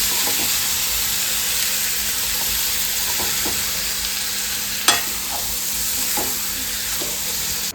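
Food sizzles and fries steadily in a pan while a spoon stirs it, with scattered scraping knocks over the continuous loud hiss and one sharper clatter midway; no talking.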